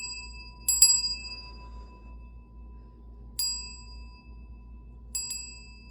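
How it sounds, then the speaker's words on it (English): A small bell rung three times at a slow, irregular pace, each strike a bright ringing ding that fades over a faint steady hum, with no voices. "Let's ring the bell."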